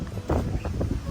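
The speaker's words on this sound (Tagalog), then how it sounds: "So medyo malakas nga yung hangin, ano." Strong typhoon wind roaring and buffeting the microphone in a brief, loud, gusty burst.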